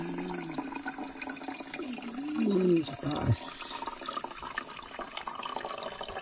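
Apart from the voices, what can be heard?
strong flow of spring water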